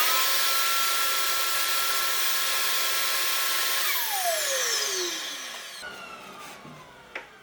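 A wood router cutting circles in wood runs at a high, steady whine, then is switched off and its pitch slides down as the motor spins to a stop, ending with a faint clunk.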